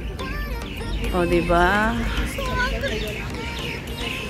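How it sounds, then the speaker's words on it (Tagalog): Birds chirp and warble in short bursts nearby while people talk over them, at Wynn Palace in Macau. "ang huni ng mga ibon"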